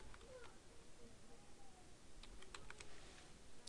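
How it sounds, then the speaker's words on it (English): Light typing on a computer keyboard while working in Photoshop, a few faint quick clicks over a quiet background hum. "Now keyboard press for enter."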